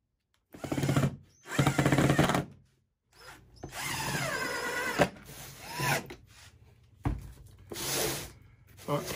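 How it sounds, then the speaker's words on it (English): A power drill drives screws through scrap wood into a chickadee roosting box, whirring in several close, loud bursts of varying length separated by short pauses. "And I'm screwing it down the same way."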